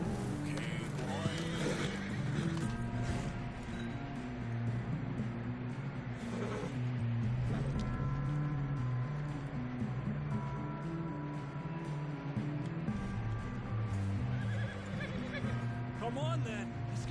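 A horse in the video game Red Dead Redemption whinnies amid hoofbeats, game music and in-game dialogue, while a player talks over the top.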